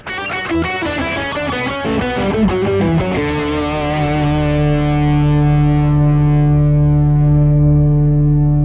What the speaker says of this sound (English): then we can add a little bit of that studio reverb